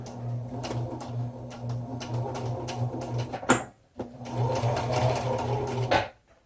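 A sewing machine stitches large stitches with a steady mechanical whir and rapid ticking, briefly stops midway, then runs again before halting.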